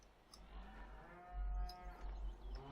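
Beef cattle in Farming Simulator 2013 low a long drawn-out moo, close and clear, with a deep rumbling undertone and no talk over it.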